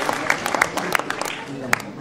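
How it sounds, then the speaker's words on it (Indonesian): Audience applause at a heated Indonesian debate featuring Mahfud MD and Rocky Gerung, a brief burst of scattered hand claps from the crowd, fairly dense and steady with a few sharper claps standing out. "Kita berikan tepuk tangan yang meriah untuk tanggapan dari Pak Yusuf Kalla."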